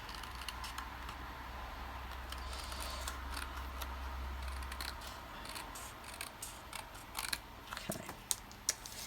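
Scissors trimming paper for a rubber-stamp craft card, a run of quiet crisp snips and clicks close by at a table, growing sharper toward the end, no talking.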